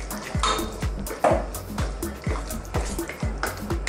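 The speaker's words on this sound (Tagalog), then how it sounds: "Ngayon po, lagay na rin natin ang ating patatas" Potatoes added to a pot of Filipino pork and beans, with wet, rhythmic knocks and scrapes of a spoon against the pot repeating about twice a second and close by.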